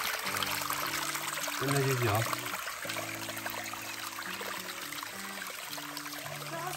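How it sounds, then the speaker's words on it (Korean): Water rushes steadily down a mossy valley creek beside a rural home, slightly swollen after rain, a constant close hiss of flowing stream with a brief spoken voice and tonal sounds layered over it. "물 흐르는 거 한번 보십시오"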